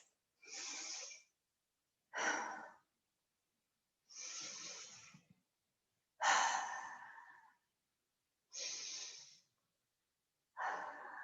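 Slow, deep breaths during a seated yoga twist, six separate airy inhales and exhales spaced evenly with short silences between, close and soft, with no talking.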